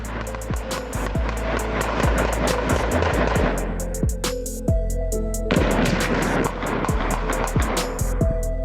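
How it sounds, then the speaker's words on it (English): A rapid volley of dozens of sharp gunshots cracks out in a drive-by shooting. The reports come in dense, irregular bursts over a constant background roar, with a brief lull midway. "More than 40 gunshots can be heard."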